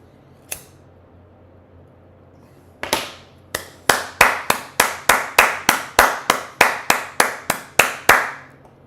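One person claps hands alone nearby, a single clap, then a pause, then a steady run of about sixteen sharp, evenly spaced claps in a quiet room.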